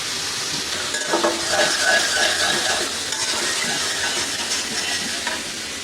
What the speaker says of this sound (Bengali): আবার ওই কড়াইয়ের মধ্যে আমি করলা ভাজি বসাই দিছি